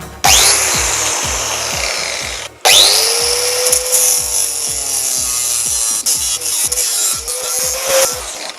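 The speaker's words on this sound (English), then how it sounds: "angle grinder." Angle grinder with a grinding wheel in a welding workshop: loud, close, continuous high-pitched grinding and whine, briefly stopping then resuming with a falling motor tone and rough rasping contact, no talking.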